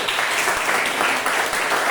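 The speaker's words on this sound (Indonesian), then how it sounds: "Tepuk tangan buat itu" Children in a classroom clap together for a classmate who has just described animals, a dense, steady burst of applause lasting a couple of seconds.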